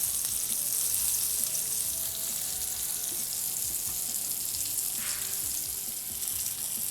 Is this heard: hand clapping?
no